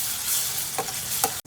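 Ginger garlic paste sizzles loudly in a pan for a Telugu mutton and boti tomato curry. Two quick stirring scrapes cut through the frying hiss before it drops off abruptly.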